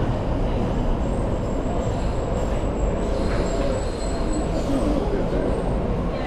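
Newcastle Metro train pulling into a station, a steady loud rumble of wheels and motors with a faint high squeal above, continuous throughout with some background voices.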